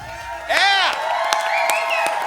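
Studio audience at a late-night talk show cheering and whooping as the host comes out, a loud crowd roar with a voice rising above it.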